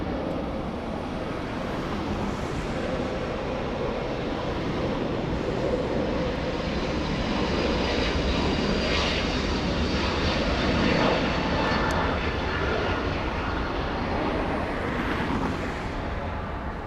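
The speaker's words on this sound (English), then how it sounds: "We have the A350 up next. Big one, big A350 900." Airbus A350-900 jet airliner engines at Los Angeles International Airport, a steady broadband roar that swells gently over about seventeen seconds, heard from a distance with wind noise and no talk.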